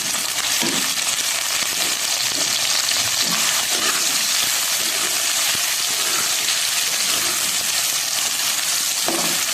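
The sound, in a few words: onions frying in hot ghee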